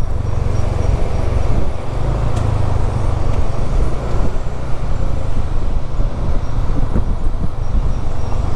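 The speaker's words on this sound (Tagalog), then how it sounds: "Daming truck." Heavy road traffic with trucks rumbling past on a highway between Calasiao, Pangasinan and Santiago City, Isabela, a loud continuous low roar with no talk.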